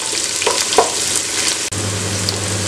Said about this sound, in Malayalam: അതുപോലെ ഗ്രീൻ ചില്ലി ഇട്ട് കൊടുക്കാം. നന്നായി മിക്സ് ചെയ്യാം. ഇതൊന്ന് വഴന്ന് വരട്ടെ.